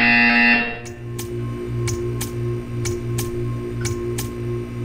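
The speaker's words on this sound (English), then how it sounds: "You will hear a buzzer." A brief tonal electronic tone, then a steady low buzzing drone with regular ticking clicks repeating about twice a second, from the video game Portal 2.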